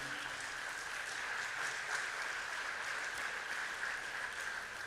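A church congregation claps steadily during a Spanish-language service, the applause soft and distant, an even wash of many hands with no voices rising above it.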